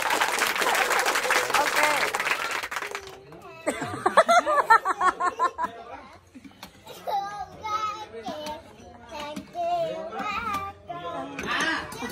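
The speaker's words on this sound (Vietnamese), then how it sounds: "Vỗ tay, vỗ tay." Applause at a small home performance, a burst of dense clapping for about three seconds, then scattered claps mixed with children's chatter and adult talk and laughter.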